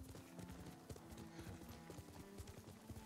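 Horse hooves clip-clop steadily during riding in the Ghost of Tsushima video game, a continuous, close, busy rhythm of hoofbeats with no talking.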